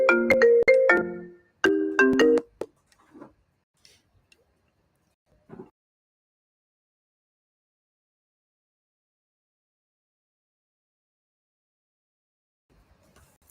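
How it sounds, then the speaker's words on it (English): A phone ringtone chimes in two short melodic bursts of tones early on, followed by a few faint clicks and then near silence. "Sorry, I got a phone call."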